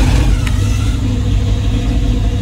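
A 1967 Pontiac Firebird's 6.6-litre (400) V8 with Holley Sniper EFI fires up and revs, a loud, steady low rumble filling the whole stretch with a brief click near the start.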